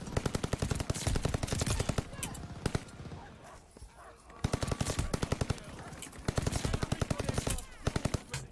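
Rapid automatic gunfire in Call of Duty: Vanguard, loud bursts of evenly spaced shots with a short lull in the middle, then heavy firing again.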